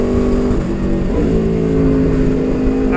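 An Aprilia RSV4 1100 Factory sportbike engine pulling hard through the gears, a loud close roar whose pitch climbs, drops at each shift and climbs again, with no voices.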